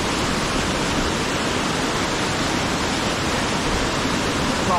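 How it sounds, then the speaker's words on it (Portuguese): A waterfall at Amélia Rodrigues in the interior of Bahia, Brazil, roars as a steady, loud, broad rush of falling water, unbroken and close, filling the whole stretch. "Mostrando a cachoeira de Amélia Rodrigues"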